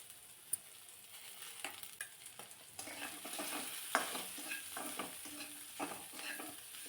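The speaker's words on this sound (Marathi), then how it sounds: "गॅसची फ्लेम कमीच ठेवायची आहे आणि भाज्या बघा परतून घेताना थोडंसं बारीक मीठ घालायचं" Vegetables sauté in a pan over a low gas flame, with a soft steady sizzle broken by scraping stirs and occasional clicks of the spoon against the pan, fairly quiet and without speech.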